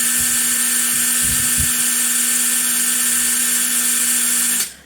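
A DeWalt DCF922 atomic impact wrench runs free at full speed, giving a steady, loud high-pitched whine with a constant tone that cuts off abruptly near the end.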